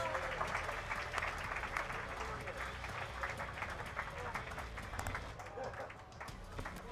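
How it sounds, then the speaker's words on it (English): Audience applause at a Tekken 7 tournament top-8 event fills the room as steady, dense clapping that holds throughout, with talk over it. "Big hand of applause for the 2 competitors"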